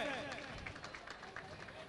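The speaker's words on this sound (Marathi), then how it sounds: "जोरदार टाळ्या वाजवून या आपण महिला संघाचं अभिनंदन करायचंय." A crowd applauds the women's team at a Ganesh Visarjan celebration, with scattered claps mixed into a steady murmur of voices and general outdoor commotion.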